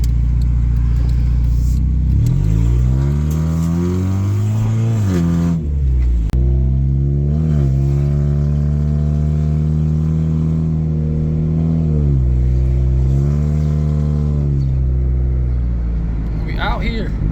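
A Honda Civic EK hatchback awaiting restoration, with a weak starter, turns over and then revs, loud and close. The engine note climbs and falls in repeated rev sweeps before settling into a steady idle.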